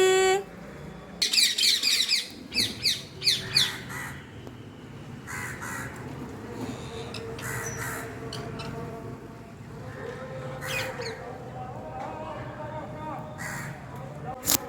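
Parrots waiting for food in the rain squawk harshly in a cluster of loud, rapid bursts early on, then call more sparsely over a soft steady background, with some talking mixed in.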